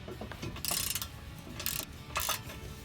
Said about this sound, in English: I'm going to go ahead and put the ratchet and the socket back on this sucker and see if I can loosen these nuts